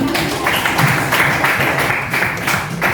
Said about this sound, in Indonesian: Oke, berikan aplaus untuk organ